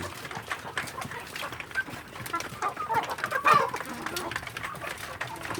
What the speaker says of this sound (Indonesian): Sore ini saya memberi makan anak ayam kampung saya